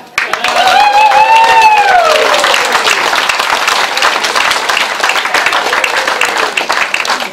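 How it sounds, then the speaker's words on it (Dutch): Loud, sustained applause from the audience at a country café evening in a village venue, a dense roar of clapping lasting several seconds, with a voice calling out briefly over it at the start. "Dus ik wil één keer een oorverdovend applaus voor YouTube."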